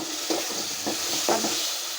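Potatoes are stirred in a frying pan with chili and spices, several soft scraping strokes over a continuous hiss of sizzling oil, close and without voices.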